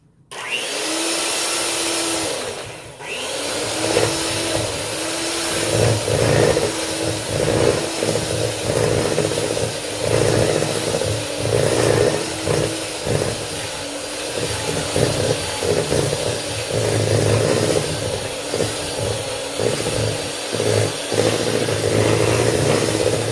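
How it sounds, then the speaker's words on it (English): An electric mixer creaming butter and sugar for German spritz cookies, a loud close motor whine that starts abruptly, dips briefly, then runs on with wavering pitch and rattling pulses as the beaters work. "So we've got our mixer here."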